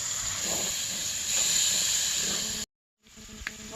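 Water hits frying masala in a pan over a clay stove for chicken haleem, giving a loud, steady sizzling hiss that cuts off abruptly, then returns faint and crackling.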